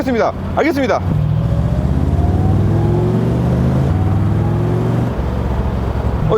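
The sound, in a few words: 60-year-old classic car driving off and accelerating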